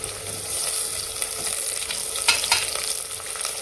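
Tomatoes frying in a pan for spinach and fenugreek khichdi, a close, steady sizzle with crackles and soft stirring scrapes throughout.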